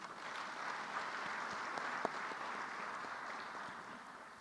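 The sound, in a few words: applause in the Senate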